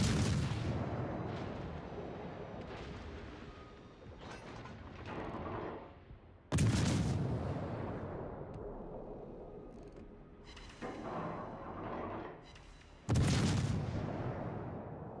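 Warship main guns fire in World of Warships, heard as three heavy booming salvos spaced several seconds apart, each followed by a long rumbling decay with mechanical clanking of turrets and reloading in between.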